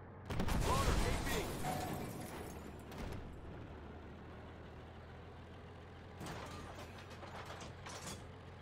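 An AP shell is loaded into the gun breech of a T-54 tank in a video game, with a heavy mechanical clank and ratcheting rattle up front, a later metallic clatter, and a low engine rumble underneath.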